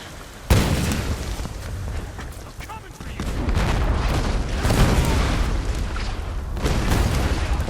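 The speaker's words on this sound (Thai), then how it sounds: "ฉากระเบิดในตำนาน" A bridge blows apart in the Tomb Raider video game: a sudden loud blast hits early, then heavy rumbling and crackling debris roll on at high volume through the rest of the scene.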